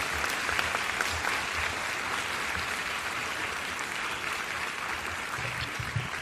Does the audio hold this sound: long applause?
yes